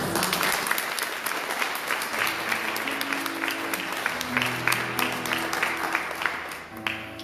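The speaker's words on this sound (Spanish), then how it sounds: "Fuerte el aplauso" Sustained applause from a church congregation following a scripture reading, dense clapping that holds steady throughout with low tones underneath.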